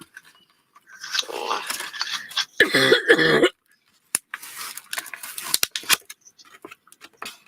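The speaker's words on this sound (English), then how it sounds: "Please excuse the cough, I cannot help it." A person doing wire craftwork on a small bottle rack coughs in a few rough, close bursts, with quiet gaps and faint clinks of handled metal between them.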